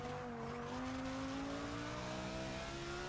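Audi RS6 engine pulling hard on the Nürburgring track, a steady loud drone with rising pitch as it accelerates throughout, no voices.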